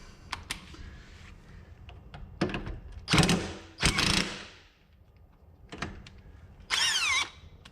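Impact gun on a Toyota Chaser, firing in several short, loud bursts of rattling hammering separated by pauses, with workshop clatter around it.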